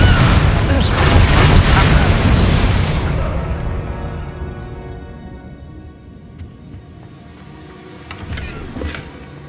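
A Confringo blasting spell goes off in Hogwarts Legacy, a loud booming burst that rumbles and slowly fades, followed by faint scattered crackles.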